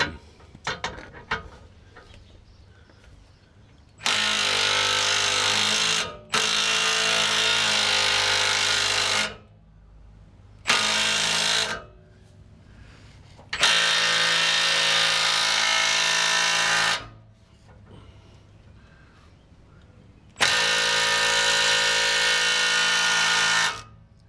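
A loud power tool working on a 2005 Chevy Avalanche's suspension runs in several long bursts separated by short pauses, its harsh whirring cutting on and off abruptly.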